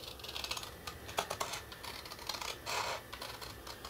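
Scissors snipping down through card along vertical score lines, a series of close, dry crisp cuts and rustles in an uneven rhythm, quiet and without talk.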